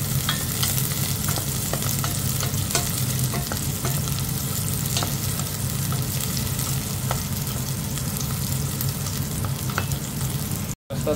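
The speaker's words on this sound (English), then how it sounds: "let's fry it until it goes nice and golden color" Garlic and onion frying in a pan for a steak and root vegetable pie, a loud continuous sizzle with scraping stirs throughout, ending in a brief cut of silence.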